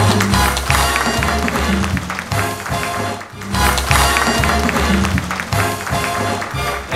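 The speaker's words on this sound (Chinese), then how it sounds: "那我们是不是大家热烈的掌声欢迎黄伯汉伯术师" An audience at a magic show lecture in a department store in Taichung applauds a magician, a thick burst of clapping over low background music that swells, briefly dips, then surges again.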